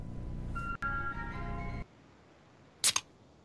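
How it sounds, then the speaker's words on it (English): An ice cream van's chime melody plays faintly from outside for a little over a second, cut by a sharp click, followed by quiet and a short burst of hiss. "Always get ice cream vans around here. It's very loud."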